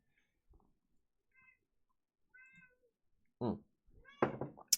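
A house cat meows several times in short, separate calls from close by in a quiet indoor office, followed by a couple of louder meows near the end.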